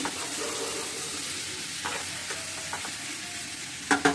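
Beans cooking in a pan with green chillies and pepper stirred in, giving a low continuous sizzle and occasional scraping stirs, ending with a couple of sharper clinks.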